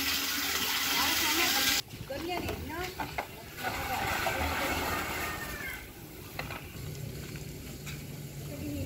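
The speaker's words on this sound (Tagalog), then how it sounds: "nilalagyan na ng tubig at maya maya pwede na silang maligo" Water gushes steadily into a container, a loud rushing pour that briefly drops in level, with faint voices and splashing behind it.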